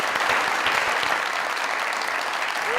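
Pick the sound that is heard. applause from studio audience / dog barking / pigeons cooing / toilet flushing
applause from studio audience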